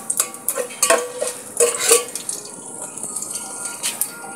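Whole spices such as cardamom, cloves and cinnamon stirred in a cooking pot for Bengali yellow pulao, with a series of close, irregular scraping and clinking strokes of a utensil against metal over a faint background sizzle.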